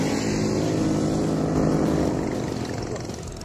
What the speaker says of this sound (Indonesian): motor saya tidak kuat guys